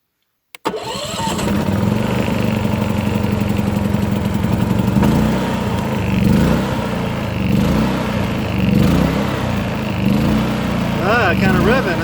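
A Predator 3500 inverter generator starts with a sharp pull and then runs steadily, its engine rising and falling in pitch as it revs. A voice speaks faintly over the close, continuous drone.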